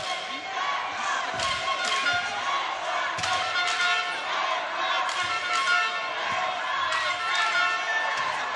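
Fans of France and the Netherlands cheer and shout in a basketball arena during a wheelchair basketball repechage game, a steady loud roar with rising bursts of yells and occasional thuds.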